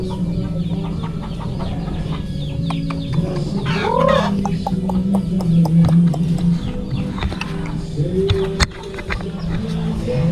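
Chickens and roosters on a rural farm cluck steadily nearby, with a brief squawk partway through and faint talk underneath.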